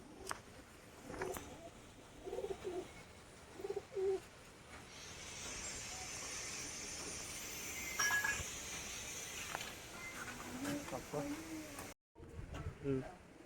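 Small short-sized Noboroh pigeons, male and female, coo in soft repeated bursts near at hand, over a steady insect-like buzz and faint background noise, with no one speaking.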